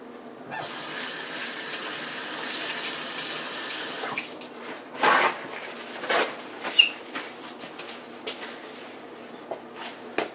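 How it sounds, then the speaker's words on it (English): Tap water runs steadily into a kitchen sink while hands are washed under the stream, with a few louder splashes and knocks near the end of the flow; no one speaks. "Wash my hand."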